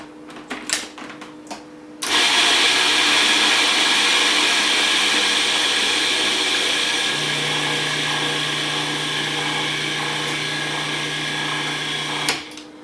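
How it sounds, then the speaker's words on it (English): A blender grinds a gluten-free cracker flour mixture, switching on abruptly after a few soft clicks and roaring loud and steady for about ten seconds, its pitch shifting slightly, before cutting off with a final clunk. "I'm going to grind this up just a second more"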